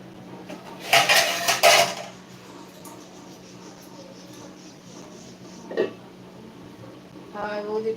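Pots, pans and metal utensils clatter in a home kitchen while spicy crab curry is cooked, a loud burst of clanking early, a single knock later and light scraping at the end, with people talking.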